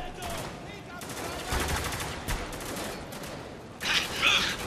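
Sustained automatic gunfire in the shooter Spec Ops: The Line, a steady rattle of shots with louder bursts and a sharp crackling flare near the end, kept at mid distance.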